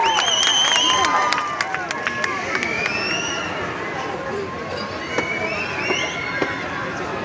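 A crowd at the Miss Kinnaur 2022 beauty pageant applauds and cheers contestant number 11, loud mixed clapping and shouts with whistles, gradually thinning.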